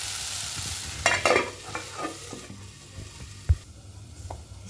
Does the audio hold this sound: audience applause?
no